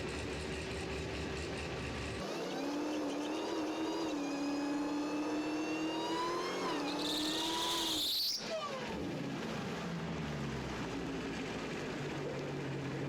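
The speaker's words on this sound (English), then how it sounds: "this is the Tesla taking on the Dodge Demon" Tesla and Dodge Demon cars racing side by side, with a loud sustained engine drone and a rising rev that climbs steadily before a sharp high whine peaks and cuts off, then a fading rush as the cars pull away.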